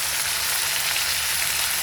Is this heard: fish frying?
yes